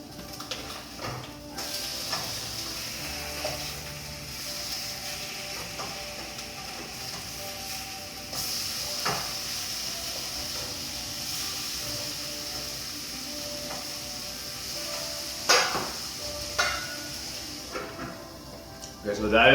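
Fish frying in a pan at home, a steady close sizzle with scattered crackles and a few sharp utensil clicks toward the end.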